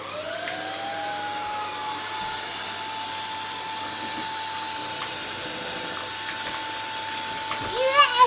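A cordless vacuum cleaner runs continuously on a hard floor, a steady high whining motor drone held close throughout, with a faint voice and a few small bumps near the end.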